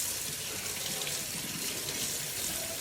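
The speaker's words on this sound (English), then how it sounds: "And now what you want to do is a cold water rinse." Cold tap water runs steadily as brined Alaskan silver salmon bellies are rinsed in a sink, a continuous close splashing stream with no talk.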